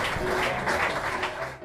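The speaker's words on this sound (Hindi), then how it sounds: "कहने से गांव वाले खुशी से ताली बजाए" Villagers clap happily together outdoors, a dense, continuous spatter of many hands at moderate loudness, fading slightly at the end.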